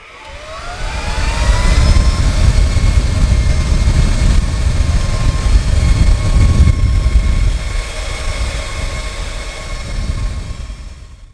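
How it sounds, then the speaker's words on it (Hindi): A homemade jet engine built from a 12-volt computer BLDC fan spins up with a rising whine, then holds a loud steady whirring roar with high tonal hum before easing down slightly near the end, no voices. "यहाँ से जैसे ही ऑन करते हैं तो इंजन ऑन हो जाता है।"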